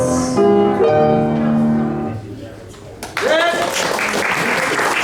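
Audience applause after a stage musical number in a live show, a dense wash of clapping that swells loud in the second half, preceded by the fading end of the song and overlapped by cheering voices.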